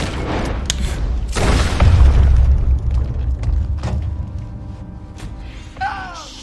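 A gunshot in Red Dead Redemption 2 during a riverboat robbery, a heavy boom followed by a fading rumble, then quieter game sounds.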